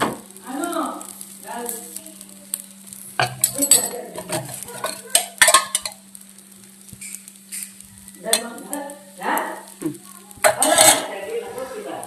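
Onion uttapam batter spread across an unoiled pan with a spoon, scraping and clinking strokes in bursts over a faint sizzle and a steady low hum, with someone talking in between.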